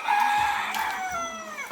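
Chickens in a poultry coop on a Ghanaian farm, a loud close rooster-like crow with clucking mixed in, carrying on steadily without talk.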